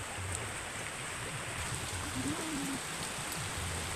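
Steady rain falls in a continuous, even hiss across the whole stretch, with no clear breaks and a faint low murmur beneath it.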